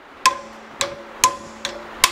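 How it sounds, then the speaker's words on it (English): Five sharp metallic hammer blows on a Ferrari 308 engine valve held in a vise ring out at uneven intervals, each with a short bright ring, against a quiet background. "and hit it with a hammer"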